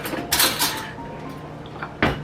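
Metal cutlery rattles as a spoon is pulled from a kitchen drawer, a short jangle followed a moment later by a sharp clack as the drawer shuts, close and brief with no talk.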